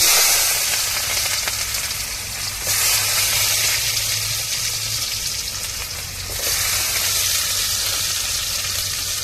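Onions sizzle and fry in hot oil with a loud, steady crackling hiss that swells slightly a couple of times, with no talking.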